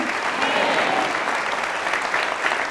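Steady applause from a church congregation at Sunday Mass, dense and sustained at an even level from start to finish.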